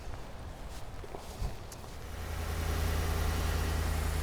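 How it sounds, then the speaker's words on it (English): A 2016 Ram truck with light front bumper damage idles at a dealership lot, a low steady engine hum that swells and settles in after a few seconds of outdoor shuffling. "Okay, Doug, this is the engine running on this 2016"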